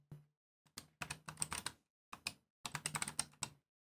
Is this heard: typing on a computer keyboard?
yes